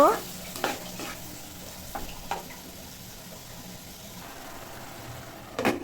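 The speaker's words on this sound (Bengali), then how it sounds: "এখন সবগুলো সবজি খুব ভালো করে নেড়ে চেড়ে দিব" Chopped papaya and pointed gourd being stirred in a pan with potato and egg, a soft steady sizzle broken by a few scraping spoon strokes near the start and end.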